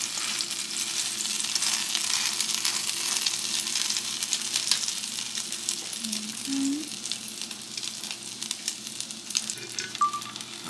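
Stuffed French toast frying in a pan, a steady close sizzle that holds evenly throughout with faint clinks, no talking.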